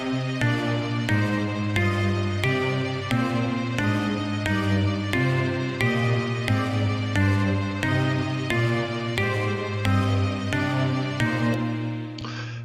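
Three looping polymeter patterns layered together, one in 4, one in 3 and one in 5, with a walking-up line among them: a steady, dense stream of repeated tonal notes and pulses, loud and unbroken for over twelve seconds.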